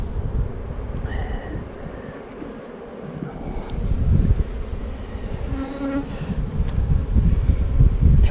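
Honey bees buzz loudly and steadily at an open hive during an inspection, a dense close-up drone with some wind rumble against the microphone.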